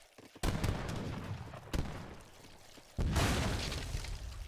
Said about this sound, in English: So we're sieging with leather cannons.